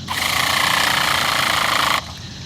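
An electric starter spins a Redcat RC nitro car engine with the tuned pipe port plugged, a loud, steady buzzing whir lasting about two seconds, then cutting off.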